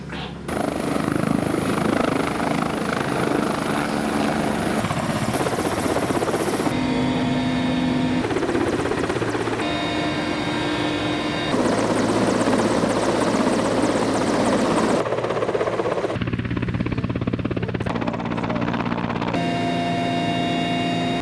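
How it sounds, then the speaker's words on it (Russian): A Mi-17 military helicopter on a training flight roars loudly and steadily with a dense rotor and turbine drone, its pitch and tone shifting in several stages as it flies. "были выполнены планы учебно-тренировочные полеты на вертолетах Ми-17 и вертолетах Е-145"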